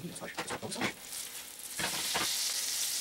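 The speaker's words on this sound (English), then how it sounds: "First ingredient in the pan is your butter." Butter melts and sizzles in a pan for bananas Foster. A soft frying hiss builds and steadies over a few seconds, with a couple of brief clatters near the start.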